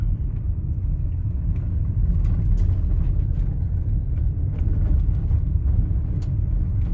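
A car drives down a road riddled with potholes that has gone unrepaired for thirty years, giving a loud, continuous low rumble of tyres and engine with irregular jolts and knocks throughout, heard from inside the vehicle.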